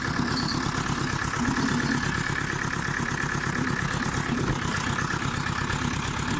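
A tractor engine runs steadily up close, its revs sagging again and again, while pulling a Famarol Słupsk rotary mower; a continuous low drone with no voices.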